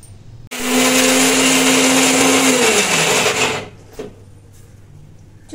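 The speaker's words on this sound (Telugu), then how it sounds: "సరిపడా ఉప్పు వేసుకొని మిక్సర్ గ్రైండర్లో గ్రైండ్ చేసుకుందాం." A mixer grinder blends red chutney with salt for idli and dosa. The grinder starts abruptly with a loud, steady whirring roar, runs for about three seconds, then its pitch sinks as it winds down and cuts out. Quieter handling noises follow.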